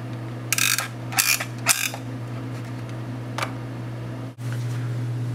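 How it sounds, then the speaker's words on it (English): An MTP fiber optic connector cleaner gives a few sharp mechanical clicks in quick succession, then one more later, over a steady low hum of test equipment. "Using your MTP cleaner."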